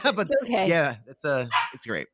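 A pet dog barks in the background of a casual podcast conversation, with yips and woofs partly buried under steady talking.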